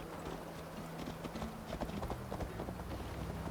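Horse hooves in the video game Assassin's Creed Valhalla, a quick steady clip-clop of a galloping horse, close and clear over a constant background.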